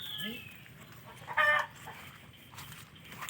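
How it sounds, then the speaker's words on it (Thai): Fighting cocks at a game-fowl farm on a rainy day crow and cluck at a distance, with one brief louder crow cutting through the soft background hum. "อ้าวมี ฟาร์มไก่ชน ด้วย นะครับ"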